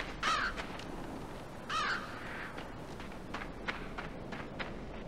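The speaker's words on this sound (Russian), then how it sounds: "Вороны," Crows caw a few times in the dark side-scrolling game LIMBO, harsh calls from more than one bird over a dense, noisy ambience with soft steps.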